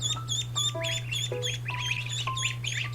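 Several runner ducklings peep and call in quick overlapping bursts, close by, over a steady low electrical hum.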